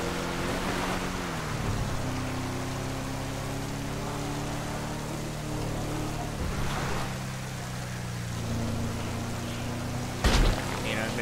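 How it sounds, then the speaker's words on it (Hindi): Heavy rain in the GTA 5 video game falls during an SUV off-road test drive, a steady hiss over the droning vehicle engine. Someone talks over it. "बारिश अब सही वाली तेज हो गई"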